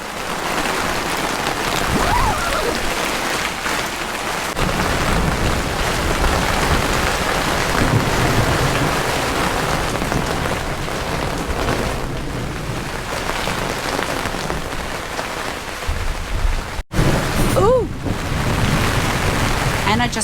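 Heavy rain pours down in a storm, a steady dense hiss lasting the whole stretch, loud and close, with a brief sharp knock near the end and a faint voice now and then.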